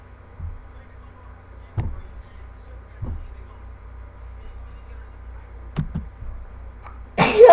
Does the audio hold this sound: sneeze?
yes